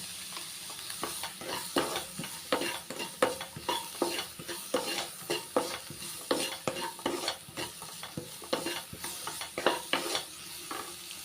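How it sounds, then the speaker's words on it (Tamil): Capsicum, beans and carrots sautéing in butter in a pan, a steady sizzle broken by frequent rhythmic scrapes and knocks of a spoon stirring, close and without talk. "கேப்சிகத்தையும் நல்லா ஒரு ரெண்டு நிமிஷம் வந்து அந்த பட்டர்லேயே நல்லா வதக்கிக்கிறலாங்க"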